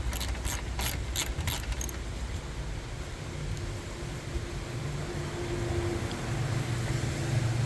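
A ratchet loosening 12mm bolts on a car's intercooler, with a fast burst of sharp clicks at the start followed by a steady low mechanical hum close by.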